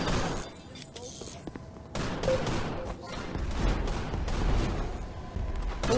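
Rapid gunfire in the VR shooter Gun Raiders, dense bursts of shots running throughout over a steady game background, with a player talking over it.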